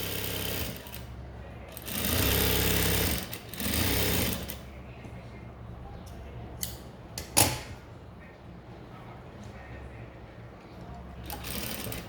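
A sewing machine stitches blouse fabric over an inner lining in bursts of loud, steady whirring, two long runs early and a sharp clack later, with someone talking in between.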